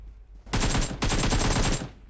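Automatic gunfire in the video game PUBG Mobile: two loud, rapid bursts of shots, the first short and the second longer, alone with no talk.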